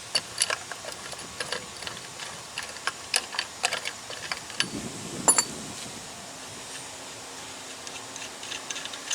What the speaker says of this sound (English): Take off one of the locking nuts, and then take out the little lock washer and take out the next one